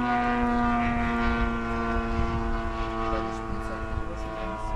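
A propeller airplane flies fairly high above an open crop field, its engine making a steady, droning hum with a constant pitch that holds for the whole stretch and fades slightly toward the end.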